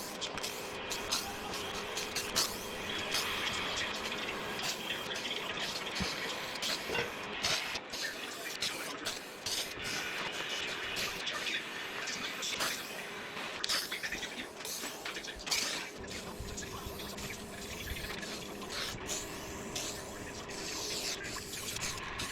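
Aerosol spray paint being applied in coats to hoses for a Toyota Tacoma, third generation, a close continuous hiss with brief pauses and soft rattles, steady throughout.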